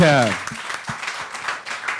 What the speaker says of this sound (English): give a big round of applause for Hollaphonic